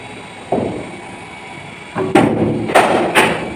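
At indoor cricket nets in West Delhi, a bowling machine launches a straight delivery with a sharp thud, followed by a quick series of knocking impacts, loud and close with no talk.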